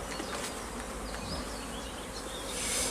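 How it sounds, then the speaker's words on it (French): Honeybees at a hive just before swarming make a dense, constant drone up close, with the buzzing of single bees flying past rising and falling over it. "j'ai 3 ruches, il n'y en a qu'une qui va essaimer, mais bon, elle va bien essaimer."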